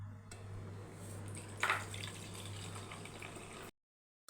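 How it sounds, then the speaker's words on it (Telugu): Water poured off soaked rice and lentils in a kitchen, a steady close trickle and splash running for several seconds with a brief louder gush midway, then cutting to silence. "4 గంటలు నానబెట్టుకున్న దాంట్లో నుంచి నీళ్ళన్నీ వంపేసుకొని"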